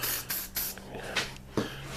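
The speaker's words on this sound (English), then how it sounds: "I'm gonna give this thing here its first coat." Spray paint laying a first coat on a small motorcycle part, a few short quiet hissing bursts separated by pauses.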